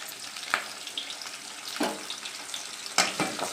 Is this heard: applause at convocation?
no